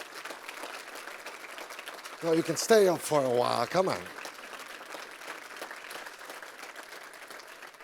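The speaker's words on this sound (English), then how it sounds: "Please give him a warm round of applause for his film Hannah." Warm applause from a film festival audience for a filmmaker and his film, clapping running steadily throughout while someone speaks briefly over it midway.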